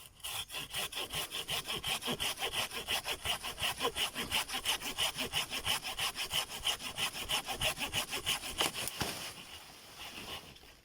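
A handsaw cuts through a tree branch from top to bottom in fast, steady back-and-forth strokes, close and rhythmic, then stops near the end.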